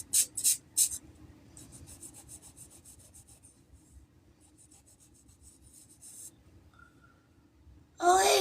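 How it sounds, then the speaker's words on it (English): An eraser rubs out pencil marks on a character sketch, first in a few quick, firm strokes, then a longer run of light, soft scrubbing, close and quiet with no talking. "I'm just erasing all the pencil marks that we had put on here."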